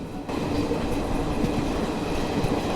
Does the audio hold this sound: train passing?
yes